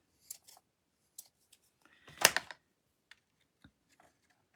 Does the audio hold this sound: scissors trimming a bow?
yes